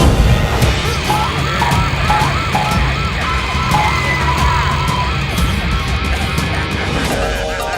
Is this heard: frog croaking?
no